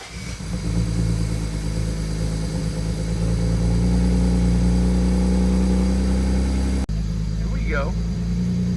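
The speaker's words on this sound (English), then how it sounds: "Starting to think that's just the sound the engine makes. Crazy, noisy BMW engines." A BMW 335i with the N54 engine runs loud and close, with a heavy, rough droning engine sound that holds steady throughout, then a brief break followed by continued running.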